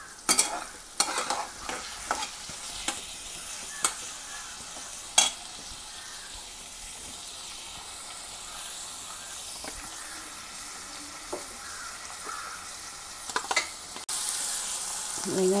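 Onions and tomatoes sautéing in a pan give a steady soft sizzle and hiss, broken by sharp scraping stirs and clinks near the start, a few more through the middle, and louder stirring near the end.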